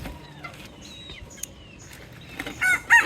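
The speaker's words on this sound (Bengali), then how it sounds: "এটা অন্য দেখছেন কেমন করে ডাকাডাকি করতেছে অন্য মানুষের মুরগ।" Chickens at a farm, hens from a neighbouring flock, cluck and call: soft, scattered clucks lead into two louder, close squawking calls near the end.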